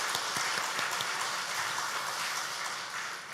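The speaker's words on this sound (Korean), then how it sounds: "박수 한번 하겠습니다." Church congregation clapping at a Sunday afternoon worship service, a steady, dense wash of applause from a sizable crowd at moderate volume, holding evenly and easing slightly at the end.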